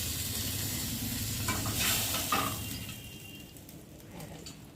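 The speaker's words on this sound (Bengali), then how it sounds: "আর এখানে দু পিস ভাজা হচ্ছে" Two pieces of fish fry in hot oil in a pan, giving a loud continuous sizzle with a few brief stirring scrapes and no talk.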